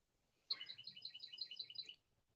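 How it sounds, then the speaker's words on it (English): Small bird chirping outdoors near a porch swing, a quick run of about ten bright, rhythmic tweets lasting under two seconds, faint and alone against quiet. "the birds are chirping"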